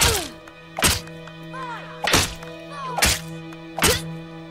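Four sharp, evenly spaced smacking hits land in the Fable 2 video game, each a punchy thwack about a second apart, with brief pained vocal groans between them over a quiet background hum.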